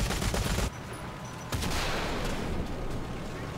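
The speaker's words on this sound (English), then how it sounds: "I do like the new machine gun sounds though." Automatic machine gun fire in War Thunder, in a tank battle: dense, continuous loud bursts that briefly drop out after a moment, then resume with sustained rattling to the end.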